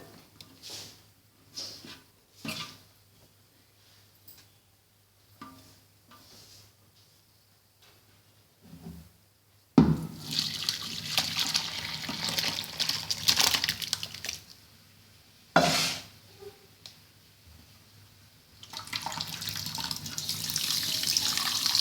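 Tap water running into a kitchen sink to rinse curdled milk, split with lemon, for homemade paneer; after soft intermittent sounds, a steady loud gush starts about halfway and continues with a brief surge and pauses.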